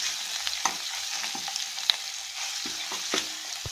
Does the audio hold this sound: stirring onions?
yes